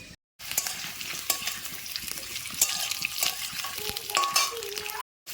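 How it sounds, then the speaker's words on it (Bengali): Potatoes fry in hot mustard oil in a wok, giving a steady crackling sizzle broken by occasional stirring scrapes, close and moderately loud, with no voices. "তেল গরম হয়ে গেছে এবার আমি আলুগুলোকে ভেজে নেব"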